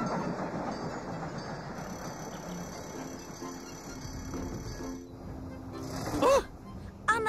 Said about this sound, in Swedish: Se upp för tåget.